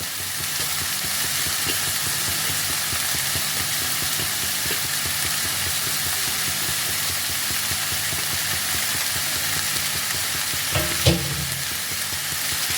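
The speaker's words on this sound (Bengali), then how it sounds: "চিকেনের টুকরোগুলোকে দিয়ে আবারও বেশ খানিকক্ষণ ভালোভাবে নাড়িয়ে নেব।" Chicken pieces frying with lightly fried vegetables for a chicken soup are stirred in the pan, giving a constant close sizzle with scraping spoon strokes and a brief louder clank near the end.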